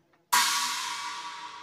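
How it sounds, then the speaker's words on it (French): A single crash cymbal sample from a kompa beat built in FL Studio hits after a brief silence, then its bright wash decays slowly and steadily on its own. "Et à la fin, on va ajouter un son de crash."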